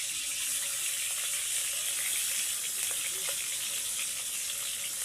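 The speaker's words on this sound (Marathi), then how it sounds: "आता तेलामध्ये माशाची चरबी सोडलेली आहे" Fish fat fries in hot oil on a wood-fired clay stove, a steady, dense sizzling hiss that holds even throughout, close and with no talking.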